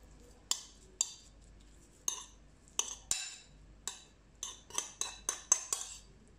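Metal utensils clinking against a bowl while mixing gimbap ingredients seasoned with salt and sesame oil, a dozen sharp close clinks in an irregular rhythm with no talk.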